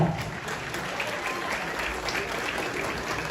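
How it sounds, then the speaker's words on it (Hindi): An audience at an award show claps loudly and continuously for a group, dense steady applause throughout with faint voices underneath. "एक बार जोरदार ताली हो जाए पूरे ग्रुप पर"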